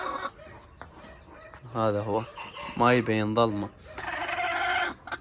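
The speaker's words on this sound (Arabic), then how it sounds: "هذا الديك الكويتي تسمعونه اهو،" A Kuwaiti rooster crows nearby in a few drawn-out, strained calls, mixed with someone talking and some rustling noise.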